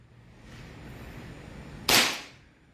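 Airsoft John Wick Combat Master pistol firing a single sharp crack, close and loud, above a quiet background.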